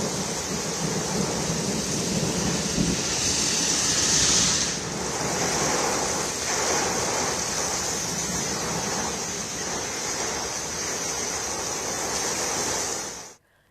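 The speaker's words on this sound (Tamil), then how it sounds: "வழக்கமான கோடை மழையாக இல்லாமல் பருவமழையைப் போல் சுமார் 80 கிலோமீட்டர் வேகத்தில் சூறாவளி காற்றுடன் கனமழை வெளுத்து வாங்கியதால்" Heavy summer rain lashes down with cyclonic wind gusting near 80 km/h over Delhi, a steady loud roar of rain and wind with no let-up, cutting off abruptly at the end.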